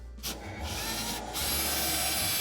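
A power drill bores a hole into a ceiling, whirring and grinding close by in sustained bursts with a short break between them, and no talking.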